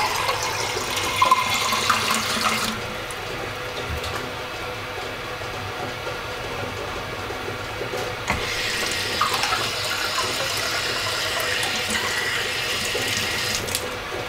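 Tap water runs steadily into a jar holding potatoes set up for sprouting, a continuous splashing rush that pauses briefly midway and then resumes close by, with no talking.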